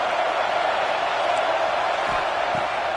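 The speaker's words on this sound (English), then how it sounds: "This crowd knows when to bring it." A college football stadium crowd during a USC game sends up a loud, steady roar of cheering that holds without a break throughout.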